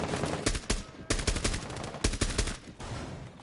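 Loud rapid gunfire from Rainbow Six Siege crackles in close bursts, with several volleys of automatic shots separated by short gaps.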